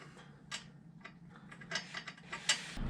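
Hand ratchet tightening bolts on a Chevrolet squarebody truck, a few short faint clicking bursts spaced irregularly, close by with no talk.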